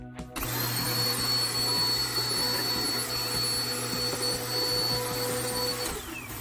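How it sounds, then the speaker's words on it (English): A vacuum cleaner runs steadily on a floor indoors, a loud continuous motor drone with a high whine that starts abruptly and holds for about six seconds, no talking over it. "That's how you vacuum the floor,"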